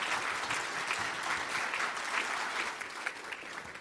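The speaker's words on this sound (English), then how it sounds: "Keep that applause going, if you would, for the Nunakku Yagara Aboriginal Dance Troupe" Sustained applause from an awards-night audience for the Nunakku Yagara Aboriginal Dance Troupe in Queensland, dense steady clapping from many hands throughout, loud and even.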